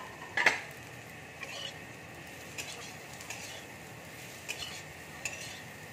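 Turmeric and chili flakes go into a hot pan and are stirred, giving a faint background sizzle broken by a sharp utensil scrape near the start and a few soft clinks afterward.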